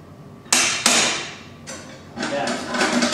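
Metal bolt wedged into place with channel locks while building a jib crane, heard as several sharp metallic knocks and thuds with ringing decay, two loud strikes then a cluster of lighter clanks.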